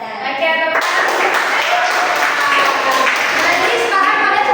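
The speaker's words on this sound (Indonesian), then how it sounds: "Oke, tepuk tangan." A class of children clapping hands together in a burst of applause, dense and steady throughout, with a few young voices mixed in.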